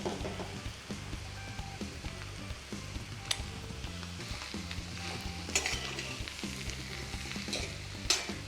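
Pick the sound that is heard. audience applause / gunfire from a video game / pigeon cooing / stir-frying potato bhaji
stir-frying potato bhaji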